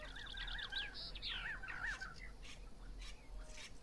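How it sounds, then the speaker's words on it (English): Birds chirp and squawk over crop fields in the Farm Manager 2018 farming game, a quiet flurry of overlapping calls over a low steady hum, with no one talking. "these birds are just picking the heck out of it"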